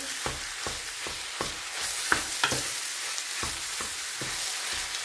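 Minced meat for a börek filling frying in a pan, a steady broadband sizzle broken by repeated sharp scraping strokes of stirring at a regular rhythm, close and fairly loud with no talk.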